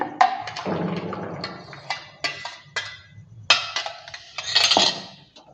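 A spoon stirs mango paste into boiled milk in a metal pot, giving repeated clinks and scrapes against the pot's sides in irregular bursts, close and fairly loud, with no talking.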